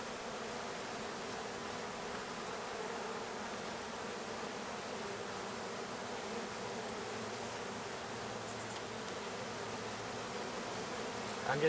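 A large honey bee colony in an abandoned chicken barn hums loudly during hive removal: a dense, constant buzzing swarm close by, unbroken for the whole stretch, with no speech.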